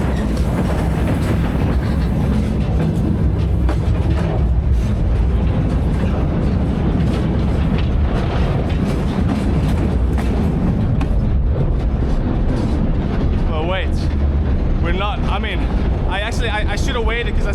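A freight train with its locomotive rolls past close by, a loud steady rumble and clatter of rail cars with squeals of wheels near the end, while people talk over it.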